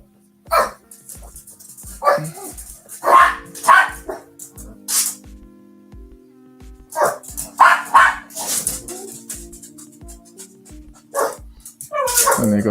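Several dogs bark repeatedly in a home while a comic page is being drawn, with loud, close, irregular bursts of barking and some yips and whimpers, over a steady low hum.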